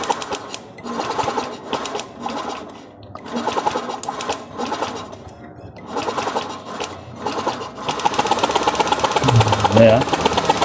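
A Honda Beat EXO scooter engine with an intermittent ignition fault runs with a fast, clattering mechanical chatter, pulsing in uneven bursts and growing louder near the end, with people talking over it.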